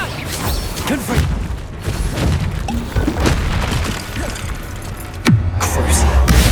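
Confringo fire spell blasts in Hogwarts Legacy, a run of dull booming impacts and crashes rolling over busy game sound, with a stronger hit near the end.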